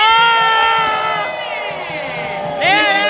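A crowd cheers and shrieks in high excited voices, loud and sustained, swelling again toward the end.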